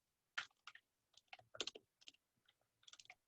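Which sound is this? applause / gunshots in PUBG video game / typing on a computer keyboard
typing on a computer keyboard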